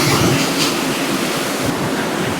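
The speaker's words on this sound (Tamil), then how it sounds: "தண்ணி வந்து சூப்பராக வருது." The main falls at Hogenakkal pour with a loud, continuous roar of rushing water close by, a dense unbroken wash with wind buffeting the microphone.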